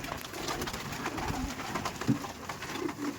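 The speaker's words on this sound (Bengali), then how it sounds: "এই যে পায়রাগুলো সব, আর দেখুন কি মারামারি করছে দুটোই মিলে।" Several pigeons coo in a small home loft while two of them scuffle, steady overlapping calls close up with brief bursts of flapping and movement, and no voices.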